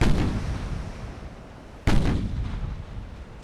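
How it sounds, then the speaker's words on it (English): Naval gunfire in the Ultimate Admiral: Dreadnoughts game, a single heavy cannon boom that strikes sharply near the middle and rolls off into a long rumbling decay over a steady low battle ambience. "Just so the gunners have got an easier job of it."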